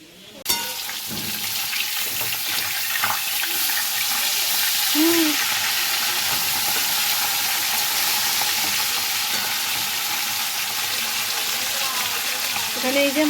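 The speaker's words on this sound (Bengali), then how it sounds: "মাছ ভাজা হচ্ছে" Fish fries in a pan with a loud, steady sizzle and crackle that fills the whole stretch, up close, with a couple of brief voice sounds over it.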